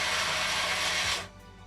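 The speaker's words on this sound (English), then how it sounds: "I mute it when I have the paint shaker on" A paint shaker runs as a loud, dense broadband rattle and hiss for about a second, then cuts off abruptly into a quiet hum.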